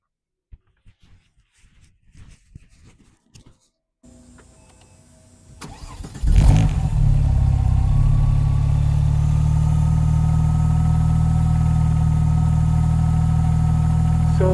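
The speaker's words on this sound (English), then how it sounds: "So here comes the start." A 2001 Porsche 911 Turbo, somewhat warm, cranks and fires after some quiet clicks, then settles into a loud, steady, rumbling idle that continues to the end.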